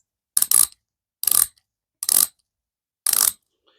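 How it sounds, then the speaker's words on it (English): A 50-year-old hand ratchet clicking close up in four separate short bursts of rapid metallic pawl clicks, evenly spaced with silence between them and no talking. "It's for a 50-year-old ratchet"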